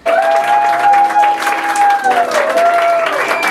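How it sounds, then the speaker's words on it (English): An audience claps loudly and steadily at a cabaret show during a fringe festival, a dense burst of applause with a few whistles or cheers riding over it, with no pauses. "And a lot of applause."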